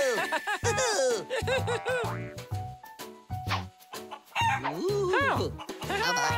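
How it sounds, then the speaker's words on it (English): Cartoon chicken crowing and clucking in a children's educational show, a run of loud, bright, bouncing calls with short pauses, alongside light laughter. "Chicken. Very good."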